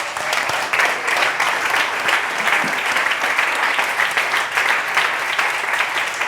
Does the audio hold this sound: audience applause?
yes